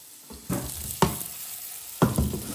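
Chopped onion pieces drop into a hot pan of melted butter in a few quick bursts, each setting off a sizzling hiss that continues softly between them.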